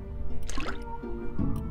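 Oil is poured and collected in the Graveyard Keeper video game, a short wet gurgling pour with dripping, liquid squishes over a steady game background hum.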